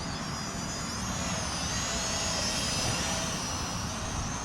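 A small, affordable Snaptain SP660 brushed drone flies outdoors out near a fence, its steady high-pitched buzzing whine holding at a constant level throughout with no talking.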